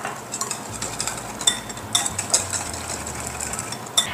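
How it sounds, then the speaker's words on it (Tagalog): A utensil stirring a sweet batter of water, salt and vanilla in a bowl for no-bake fortune cookies, soft steady scraping with a few sharper clinks against the bowl. "i-mix natin ito na mabuti"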